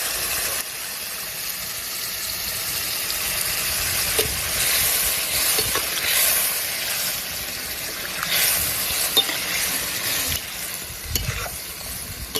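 A dish bubbling and simmering in a pan after water has been added, giving a steady hissing, sizzling wash with a few faint clinks and scrapes, close and fairly loud.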